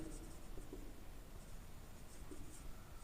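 Writing on a board during a Class 11 physics lesson, soft continuous scratchy strokes at low volume, with faint brief touches of a voice behind them.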